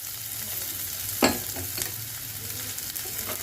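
Chopped garlic and ginger sizzle and fry in a hot kadai, a steady close crackle with one sharp burst as the pieces hit the oil and a few softer stirring scrapes after.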